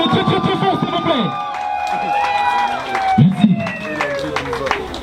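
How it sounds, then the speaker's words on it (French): A crowd at a civil wedding claps and cheers steadily throughout, a dense wash of applause mixed with voices and a musical tone, while someone speaks briefly over it. "acclamez très très très fort s'il vous plaît"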